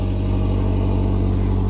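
A 2016 Harley-Davidson CVO motorcycle engine runs loud and close, a steady, deep pulsing rumble with no clear rise in pitch, sounding more like a held idle than a rev.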